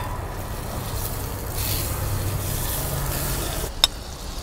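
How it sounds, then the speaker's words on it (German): Butter sizzles in a preheated cast iron pot on a barbecue side burner over low heat, a steady close frying hiss with a brief sharp clink near the end. "Wir geben den Butter dazu."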